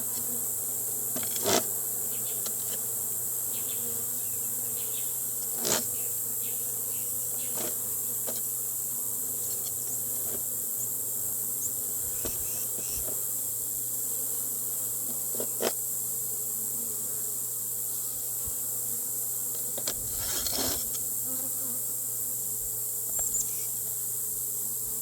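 Honey bees buzzing around an open hive during an inspection, a steady soft hum with faint nearby movements and occasional louder passes close by.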